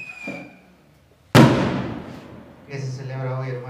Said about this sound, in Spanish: ¿Qué se celebra hoy, hermanos? Porque hay cohetes.